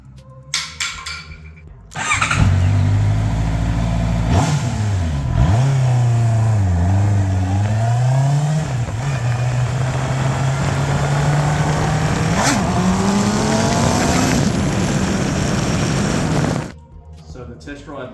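A de-restricted Honda CB650R motorcycle engine revs and pulls through the gears on a ride, a loud continuous drone rising and dipping with throttle changes, with wind noise throughout and a sudden start and stop.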